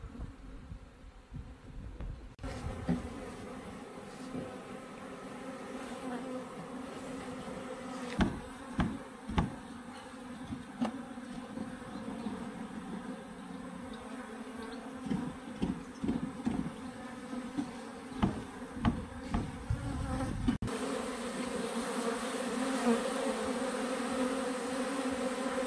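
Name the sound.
bee swarm buzzing while entering a beehive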